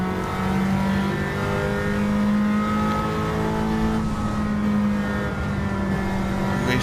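A race car engine works under hard braking during a GTCC championship race at Alsace, France, giving a loud, close, sustained mechanical drone with no talk over it.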